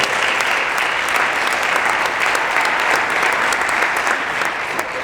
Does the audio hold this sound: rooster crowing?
no